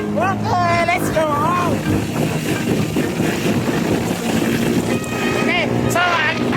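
A small boat engine runs hard at full throttle, a steady loud drone with wind buffeting the microphone while people talk and shout over it.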